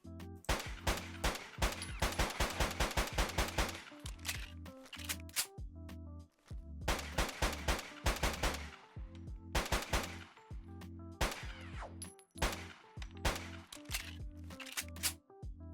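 Custom 9mm pistol gunfire from a Fallout 4 mod, heard as rapid strings of sharp shots with mechanical clicks in between, some in quick bursts and others more spaced out, with no talking.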